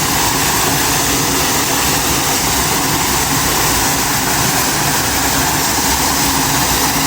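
A loud waterfall roars in a dense, unbroken wash of water noise, close and constant throughout.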